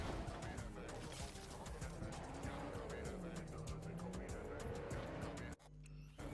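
A car drives in Cyberpunk 2077 with a loud, continuous engine whine that rises and falls as it accelerates along the road, tire noise underneath, before an abrupt cut near the end.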